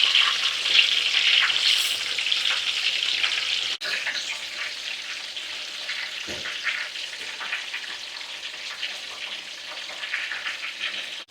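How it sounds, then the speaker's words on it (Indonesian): Cassava fries in oil with a continuous, dense sizzling hiss that holds steady throughout, punctuated by a faint bump or two, with no one speaking. "Sambil menunggu singkongnya digoreng"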